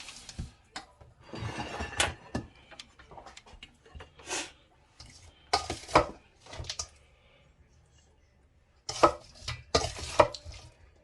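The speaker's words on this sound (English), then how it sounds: "I'm gonna plate it" Salt and pepper shrimp is plated with a string of irregular clinks and scrapes of utensils against dishes, close and intermittent with quiet pauses between, and no talking.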